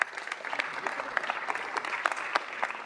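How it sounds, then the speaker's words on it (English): At a city council meeting, a modest crowd applauds coaches being honoured, the individual claps distinct and uneven, moderately close and steady throughout. "Let's give them an applause, too."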